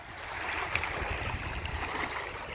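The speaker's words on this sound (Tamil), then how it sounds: "அலை எப்படி வருது பார்த்தீங்களா?" Waves lap steadily against the shore of the Bhavanisagar dam reservoir, a continuous washing rush of water with a low rumble beneath, fairly close and even.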